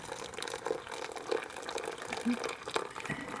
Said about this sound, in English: So I'll go ahead and fill up my coffee.